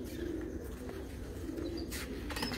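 Rooftop pigeons in Sharjah coo softly at a distance, low repeated coos mixed with a few faint chirps over a quiet outdoor background.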